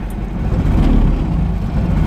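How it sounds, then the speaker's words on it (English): A Heinkel Kabine microcar's engine runs loud and steady just after starting, a close, rough, continuous rumble despite its insulated cover. "It's kind of a noisy engine."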